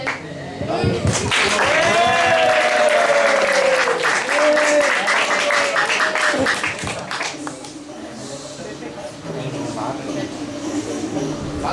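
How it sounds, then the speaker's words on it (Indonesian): An audience at a research dissemination event claps loudly and steadily to welcome a presenter, with an amplified voice ringing over the applause before it fades and a speaker begins. "kita beri tepuk tangan yang meriah kepada Hani"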